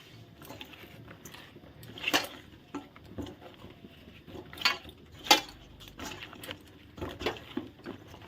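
Eggplant slices being mixed with spices and sugar by hand in a bowl, giving soft, faint squishing and light clinks, with a few sharper taps standing out against quiet background.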